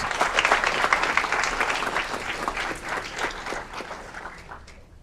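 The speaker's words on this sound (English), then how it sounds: "Big round of applause for Juan Liz." A hall audience applauds a student from Marmion Academy at a ceremony. The clapping is dense and steady, then thins and fades toward the end.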